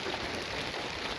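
Unexpected rain falling in a desert food forest homestead, a brief, dense and even hiss of drops, loud and close, with no voices.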